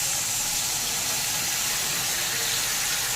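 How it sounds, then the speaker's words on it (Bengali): Water poured into a pan of fried potatoes before boiling, a steady, continuous hissing splash with no break, close and fairly loud. "এবার কিছুটা জল দেব"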